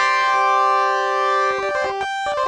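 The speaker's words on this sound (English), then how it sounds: "So this is filter modulation." A Yamaha Reface CS synthesizer plays a sustained chord whose tone shifts under filter modulation, turning brighter and then darker, with the notes changing near the end; it is heard clearly and alone.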